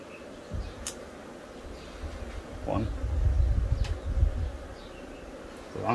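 Honeybees hum around an open 15-frame beehive, making a continuous low buzzing that swells and fades as insects pass close, with faint bird calls and occasional handling sounds in the background.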